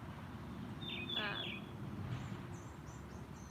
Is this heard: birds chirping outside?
yes